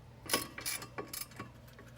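Brake caliper mounting bracket bolts being reinstalled during a disc brake job, heard as three or four close, crisp metallic ratcheting clicks spaced about a quarter second apart over a low hum, with no talking.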